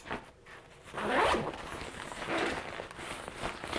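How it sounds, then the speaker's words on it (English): The main zipper of an Osprey Stratos 34 panel-loader backpack is pulled open in a couple of long rasping strokes, close by, with faint rustling between them. "Undo the big zipper here."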